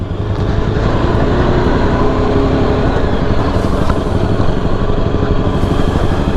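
A Yezdi Adventure motorcycle rides an off-road trail, its engine running loud and close with a steady, throbbing drone and rough rumble that never lets up.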